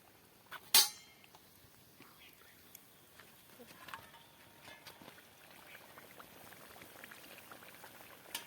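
Bread pakoras frying in hot oil, a faint, steady crackling sizzle with a sharp utensil clink near the start, while someone talks quietly over it.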